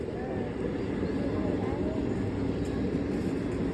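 A train passes close by, making a loud, steady rumble and roar that stays unbroken for several seconds, with voices faintly mixed underneath.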